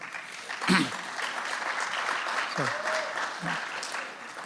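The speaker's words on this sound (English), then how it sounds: "a round of applause for him as well" An audience at a parks and recreation planning presentation gives steady, fairly faint applause throughout, with a few brief voices or sounds breaking through the clapping.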